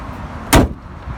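A 2018 Infiniti QX30 Premium AWD door swings shut with one solid, close thud, a short, clean slam against a quiet background.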